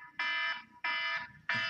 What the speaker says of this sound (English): And that is my timer going off.